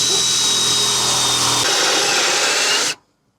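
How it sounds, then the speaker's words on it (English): A power drill bores through the underside of a Ford Transit Custom van during a camper conversion, whining loudly and continuously, the pitch dropping as the bit breaks through before it abruptly stops. "the fun part now will be drilling through the bottom of the van"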